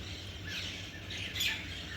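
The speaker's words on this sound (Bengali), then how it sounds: "সকালবেলা শুধু পাখিদের আওয়াজ মানুষের আওয়াজ একটুও নেই" Faint morning birdsong drifts in from outdoors over quiet ambient hiss, with a few soft chirps and calls from several birds and no human voices.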